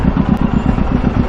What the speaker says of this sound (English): It's growling. Oh, it's a carbon fiber exhaust.